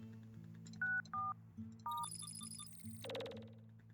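Telephone keypad tones beep in a short, clear sequence of separate presses over a low steady hum, ending in a rising electronic warble, all quiet and close with no voices.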